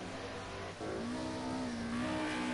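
Race car, a Group A touring car, driving through Old Hall Corner at Oulton Park, its engine droning steadily then rising in pitch as it accelerates, loud and close with no talk.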